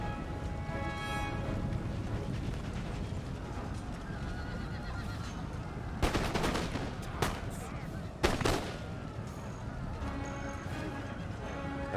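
Musket volley gunfire in the Empire Total War video game, crackling bursts of many shots around the middle of the stretch over a constant battlefield din with horses whinnying and hooves clopping, and a voice speaking briefly.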